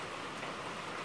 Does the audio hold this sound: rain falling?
yes